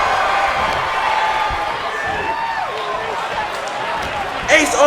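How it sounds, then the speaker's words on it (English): A wrestling crowd at a WFW Extreme match chants in unison, steady and fairly loud throughout, with a commentator talking over it and a brief louder burst near the end. "this crowd is already chanting"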